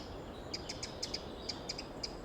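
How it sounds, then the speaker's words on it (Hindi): Small birds in a forest give quick, high chirps in a loose scattered run, some notes doubled, heard at moderate distance over a steady soft background hiss. "परिंदों की चहचहाहट गूंज रही थी"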